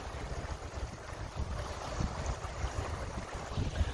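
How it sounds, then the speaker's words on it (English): Gentle flowing river water along a muddy woodland walking path, a soft continuous wash with low rumbling from wind against the microphone and no talking. "If you can listen to the water flowing, it's so peaceful."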